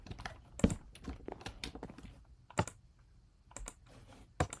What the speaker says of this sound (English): And then you can type. And like click with your mouse.